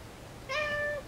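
A cartoon cat meows once in the video game Little Inferno, a clear, drawn-out mew of about half a second heard alone over faint background hum.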